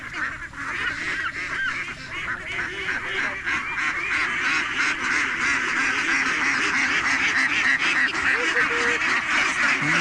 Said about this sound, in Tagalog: Ngayon po mga adventures ay papakawalan natin yung ating itik